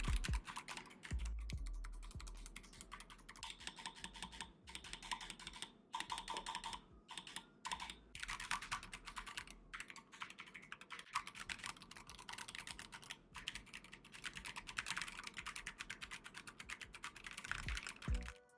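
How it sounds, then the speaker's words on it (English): Steady typing on an Akko 3084B Plus mechanical keyboard fitted with jelly pink switches, a dense run of close, crisp keystrokes lasting the whole stretch with only brief pauses and no voices. "Let's perform a sound test now."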